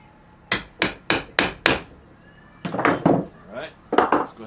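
Five sharp, evenly spaced hammer taps ring out close by, followed by a few more clustered, slightly muffled knocks.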